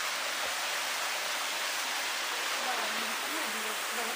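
A waterfall at Solokhaul near Lazarevskoye rushes in a steady, dense hiss of falling water, close and loud throughout, with a faint low voice briefly audible beneath it.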